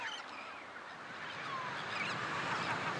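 Many seabirds call at a busy colony, a dense, continuous chorus of overlapping squawks and honking cries that fills the air at moderate volume with no talking.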